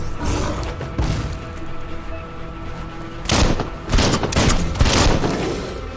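Gunfire in the video game Biomutant, starting with a few scattered heavy thumps, then a loud, rapid volley of blasts in the second half over rumbling background noise.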